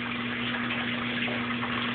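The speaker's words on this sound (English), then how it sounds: "I can hear the water running" A Kenmore Oasis top-load washing machine fills with water behind its closed lid, a steady, even rush of running water with a constant low motor hum underneath, no voices.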